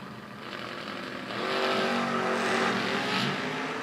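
Ron Barnhill's Mustang race car engine roaring at a drag race, a loud, steady broadband rumble that swells stronger partway through and holds at full volume, with no talking.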